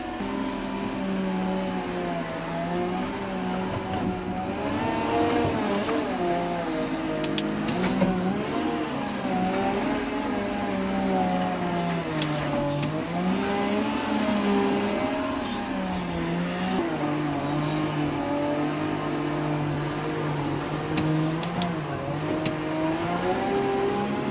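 A dump truck or other heavy equipment knocks down dirt piles during a ranch guest house renovation. A loud engine drones steadily throughout, its pitch rising and falling with the load. No talk is heard.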